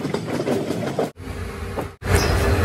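A passenger train rolls between Jorhat and Tinsukia in Assam, heard from inside as a loud steady rumble and rattle, briefly interrupted by two abrupt cuts.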